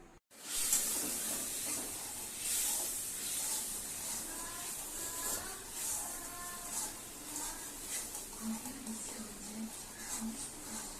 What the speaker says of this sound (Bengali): ভালো করে মাংসের মতো করে পেঁয়াজ আদা রসুন দিয়ে কষানো হচ্ছে, টমেটো দিয়ে